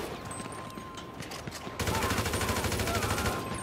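Video-game gunfire in rapid bursts, with scattered shots first, then a loud sustained machine-gun stream that fills the second half.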